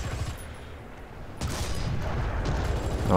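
A heavy tank cannon blast in War Thunder booms, followed by a rumbling roar and rattling impacts, loud and close, with another muffled shot near the end.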